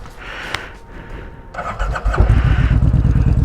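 A Kawasaki Vulcan Voyager motorcycle with Sharkroad aftermarket mufflers cranks and fires up, settling into a loud, rumbling, choppy idle close by.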